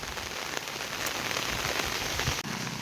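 Heavy monsoon rain pours steadily on surfaces beside a river in the Konkan, a dense, continuous roar of drops that stays loud throughout with no voices.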